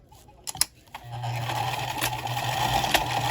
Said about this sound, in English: Sew our triangles at 3/8 of an inch.